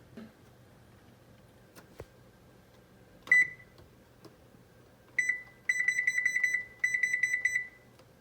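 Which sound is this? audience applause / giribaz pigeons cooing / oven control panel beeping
oven control panel beeping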